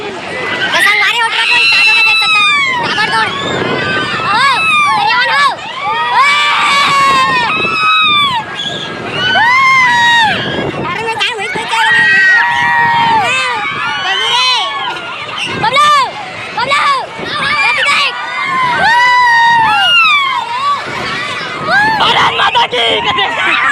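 A dense crowd at the Bhatgaon fair in Chhattisgarh, with loud continuous babble, shouts and children's shrieks close by, and many voices overlapping throughout.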